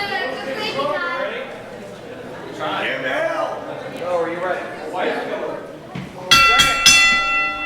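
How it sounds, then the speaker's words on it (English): A ringside bell at a wrestling event clangs several times in quick succession near the end, bright and loud, after a stretch of voices and crowd chatter. "There's the bell here."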